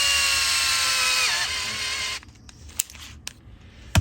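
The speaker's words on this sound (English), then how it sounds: "With a drill," A power drill whirs loudly and steadily with a pitch that dips briefly, then stops, followed by a few sharp clicks and knocks, while threading parts on an RC crawler kit build.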